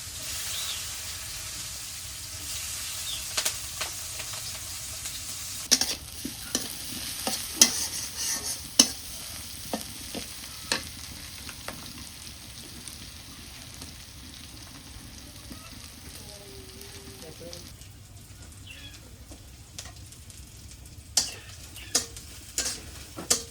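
Chopped onion stir-fried with ash gourd in hot oil, a steady sizzle under frequent scraping and tapping of a spatula against the pan over a long stretch.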